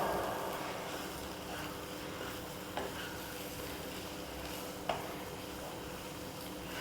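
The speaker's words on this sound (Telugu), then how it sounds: "తర్వాత మళ్ళీ బాగా కలుపుకోవాలి, కారం వాసన లేకుండా బాగా కలుపుకోవాలి" Gongura leaves fried with chili and garlic are stirred in a pan for pickle, giving a soft, continuous sizzle with two brief scraping clicks of the spoon against the pan. No one speaks.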